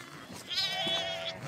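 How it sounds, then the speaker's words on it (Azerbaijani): A single drawn-out bleat rises from a flock of ewes with lambs on a farm, clear and fairly close, lasting about a second over quiet background. "Hamısı balalı qoyunla."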